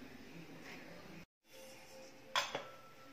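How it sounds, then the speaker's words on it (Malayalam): A metal pan lands on a kitchen stove while egg fried rice is being made, giving a brief, sharp clank and a lighter knock after it against a quiet room hum. "ഇനി നമുക്ക് അടുപ്പിൽ വേറൊരു പാൻ വയ്ക്കുക"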